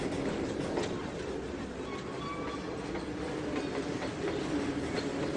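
A train in the Trainz 2022 rail game rolling back and forth, with a continuous rumble of wagons and faint clicking wheels and squeals, steady and moderately loud with no talk.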